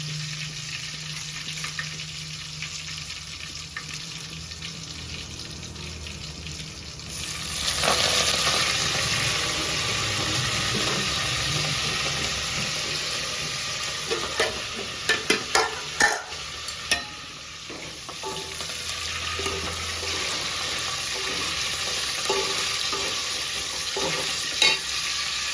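Cumin, garlic and curry leaves frying in hot oil for mango dal: a steady close sizzle that jumps louder partway through, with scraping stir strokes and a cluster of sharp spatula clicks, no voices.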